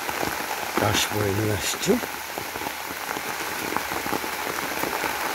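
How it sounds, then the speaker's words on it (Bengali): Gentle rain falls steadily in a Bangladeshi village, spattering on the ground and on a pond as a constant close hiss. A few spoken words cut in near the start. "কি স্নিগ্ধ বৃষ্টি"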